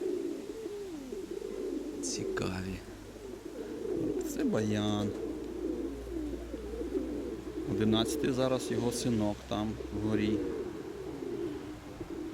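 Pigeons coo in soft, repeated low bursts close by, under a man's speech throughout, in a loft keeping a breeding pair and young birds.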